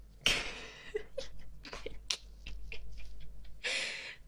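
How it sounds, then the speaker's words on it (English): A sharp, forceful sneeze bursts out near the start, followed by a few small sniffs and breaths, then another burst of noisy breath at the end. "That was a hard sneeze."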